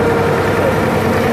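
Steady, loud low engine drone from a boat, running constantly and evenly throughout with no voices.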